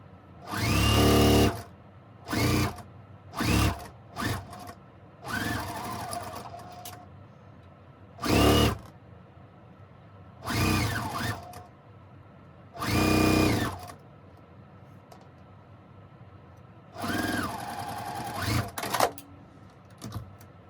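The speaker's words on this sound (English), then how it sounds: "So the next step is to sew on this strip to the side." Repeated short runs of a sewing machine stitching a strip onto a quilt block, about ten bursts of a few seconds each separated by quiet pauses and handling sounds, close and fairly loud, without talking.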